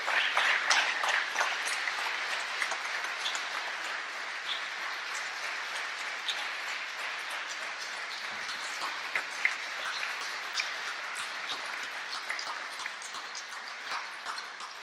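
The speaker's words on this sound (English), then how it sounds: "Please give them a round of applause." A room of people claps for new Eagle Scouts at a Court of Honor ceremony, sustained applause of many hands that holds for about fifteen seconds, fading slightly toward the end, with no speech over it.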